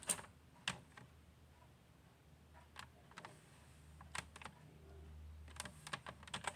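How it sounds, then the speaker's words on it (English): Someone types on a computer keyboard up close, with quiet, irregular clusters of key clicks separated by short pauses and no talking. "I'm typing his name in."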